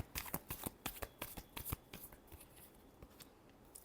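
Tarot cards are shuffled in a quick run of crisp riffling flicks, close and soft, tapering into quieter rustling.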